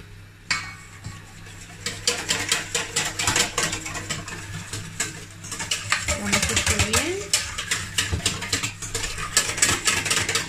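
Egg, oil and milk being mixed for a cake batter in a kitchen, a utensil clinking and scraping against a bowl in rapid strokes, with quieter stretches and a low hum behind.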